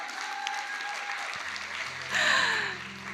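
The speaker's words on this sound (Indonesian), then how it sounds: "Tepuk tangan buat beliau." An audience at a biography book launch claps, the applause swelling briefly louder midway before easing, with a faint tonal sound mixed in.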